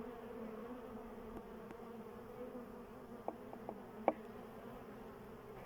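A faint, steady buzz of bees in a hive hums in the background, with a few soft clicks and taps near the end.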